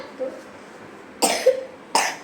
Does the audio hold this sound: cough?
yes